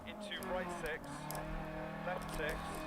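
Lancia Fulvia rally car engine in DiRT Rally, revving and shifting with rising and falling whines along a stage, held under steady background with someone talking over it.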